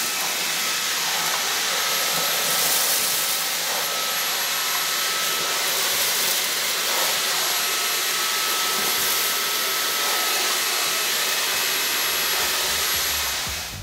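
Catchwell CX PRO Magic Tower N cordless vacuum cleaner running continuously, a loud steady high-pitched whine and airy suction roar with no break, heard up close and alone.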